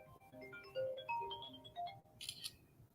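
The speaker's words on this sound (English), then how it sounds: "I knew when my phone started ringing, I'd done messed up." A phone ringtone plays a melodic sequence of clear electronic tones, followed by a short burst of brighter chiming notes, heard alone at moderate level with no talking.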